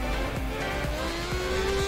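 A race car in a racing video game, on a circuit in China, drones with a continuous engine whine that climbs steadily in pitch, over faint rhythmic ticking and light tire noise, with no talk.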